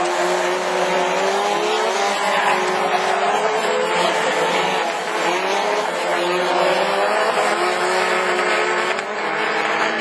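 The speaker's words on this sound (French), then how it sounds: "quand tu écoutes les Twingo, les mecs qui restent au rupteur" Renault Twingo rallycross cars at a French championship round in Lessay, engines screaming continuously near the rev limiter with steady, loud, overlapping engine drone and some tire noise throughout.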